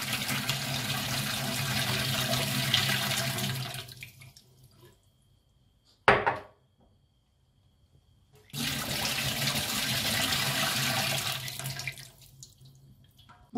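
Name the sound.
draining bitter brine water from green olive jars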